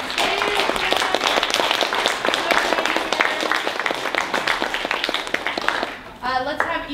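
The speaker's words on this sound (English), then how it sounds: "let's give a big round of applause to everyone who came on stage" Audience applauding the cast after a stage play, brisk and dense clapping close by that continues steadily before a voice briefly speaks near the end.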